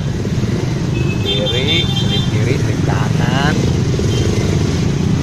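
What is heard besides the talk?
Honda Monkey motorcycle riding in traffic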